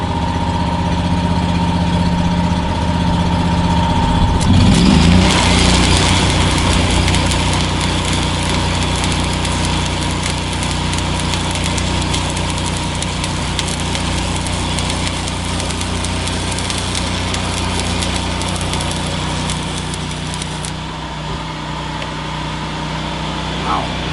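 A Miller Bobcat 260 engine-driven welder runs with a steady, loud engine drone throughout, with a brief surge in intensity near the start and no break in the sound.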